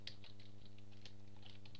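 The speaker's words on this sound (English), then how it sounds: "Oh, excuse my typing, I haven't used this keyboard in a while." Fast, uneven keystrokes on a Mac computer keyboard patter close by over a steady low hum, with no voices.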